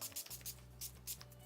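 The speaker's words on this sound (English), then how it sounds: "I'm going to use this Wet n Wild Matte Finish Setting Spray," Several quick, faint spritzes of Wet n Wild Photo Focus matte finish setting spray being misted onto a face in rapid succession.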